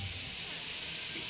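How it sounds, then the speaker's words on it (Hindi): A home pressure cooker of rajma vents steam through its whistle in a loud, steady, breathy hiss lasting just over a second. "कुकर की सीटी डर गई?"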